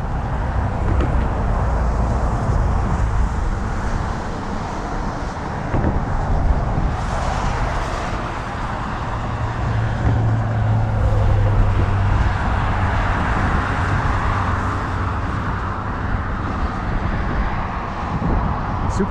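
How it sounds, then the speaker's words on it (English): Steady wind buffets the microphone at a cold scenic overlook, a continuous low roar that swells and eases over the whole stretch, with faint road traffic and passing cars mixed far below. "Super cold today and windy, as you can probably hear."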